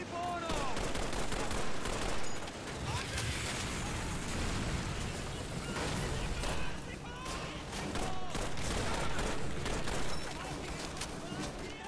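Dense bursts of automatic gunfire and explosions from the video game Call of Duty 3 rattle almost continuously, loud and busy throughout.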